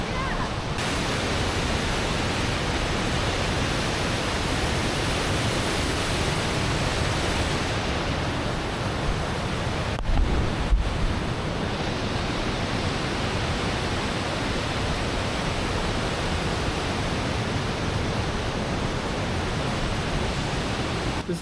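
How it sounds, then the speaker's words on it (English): Three waterfalls pour on a forest hike, a steady loud broadband rush of falling water filling the whole scene without letup. "These are 3 great waterfalls."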